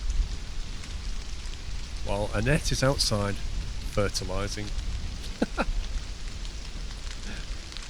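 Steady rain hiss from the Stranded: Alien Dawn video game runs throughout at an even level, with someone talking over it.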